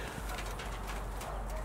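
Caged quail startled as a person steps into their coop, giving soft cooing and fluttering sounds over a steady low background hum.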